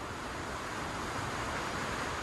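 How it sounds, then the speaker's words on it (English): Strong, gusting wind roars continuously across an open lake shore during a canoe trip, a loud broadband rush with wave-like surges, close to the microphone and with no voices. "as you can hear, it is windy."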